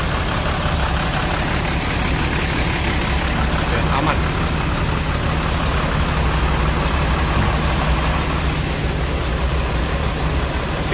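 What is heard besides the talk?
bus engine idling during engine check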